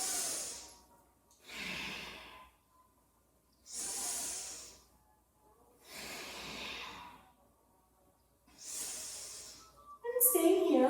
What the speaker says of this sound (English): Continuing your breathing pattern, in and out through your nose.